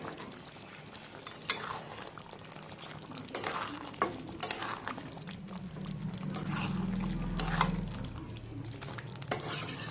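Chicken rezala being stirred and mixed in a pan after salt goes in, giving scraping and clinking of the spoon over a low simmering sizzle, with a soft pouring sound partway through.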